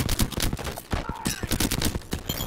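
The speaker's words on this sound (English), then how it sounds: "I am taking fire" Rapid, dense gunfire in a shooter video game, a loud near fusillade of overlapping shots crackling continuously with only a brief dip.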